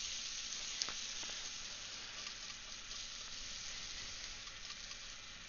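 Meatballs sizzle in a frying pan with a steady, bright crackle of hot oil that runs on without a break, close and fairly quiet, with one sharper pop near the start.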